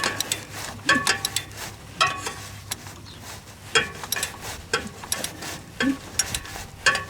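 A socket ratchet turns over a seized 1978 Dodge 440 cid motorhome engine in repeated bursts of sharp metallic clicking, heard close and uneven, with short pauses between strokes.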